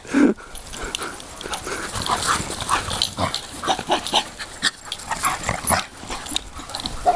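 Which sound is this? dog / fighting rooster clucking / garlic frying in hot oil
dog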